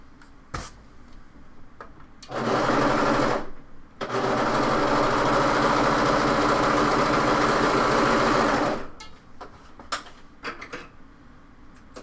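Sewing machine stitching the right-sides-together shoulder seam of a top, running loud and steady in two bursts, a short one then a longer sustained run of about five seconds, with quiet handling noises around it.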